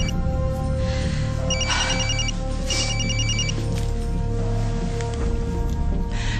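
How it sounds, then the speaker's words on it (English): A telephone ringtone plays a repeated electronic two-tone ring in short bursts over a steady hum and a faint background murmur, with no clear speech. "Whose phone is that? Oh my God, it's mine."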